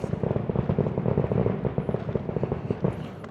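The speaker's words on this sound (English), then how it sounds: "Good news is there's fireworks." Fireworks bursting at Teotihuacan, Mexico, in a dense, continuous string of rapid loud crackling pops, close and steady with no pauses, sounding like firecrackers or gunfire.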